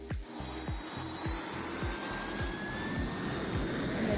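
Cirrus Vision jet in the PTFS flight game: a steady engine roar with a thin rising whine above it, under repeated low thumping knocks at a regular beat, sustained and fairly loud throughout.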